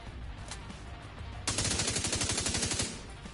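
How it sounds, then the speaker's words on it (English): Automatic weapon gunfire while blind firing from cover in The Division 2 video game: a rapid, loud burst of about a dozen shots lasting over a second, preceded by a single sharp crack and quiet game ambience. "Blind fire a little bit."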